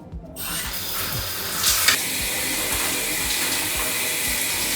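A shower runs in a cruise ship cabin bathroom, a steady loud hiss of falling water that carries on without a break for the whole stretch, with no voices over it.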